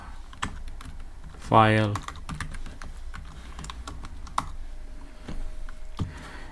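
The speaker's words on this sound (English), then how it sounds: "here I'm gonna type file dialog dot ask save as file" Rapid clicking keystrokes from a computer keyboard while code is typed, scattered taps through the stretch with a denser burst in the middle, under a man's speech.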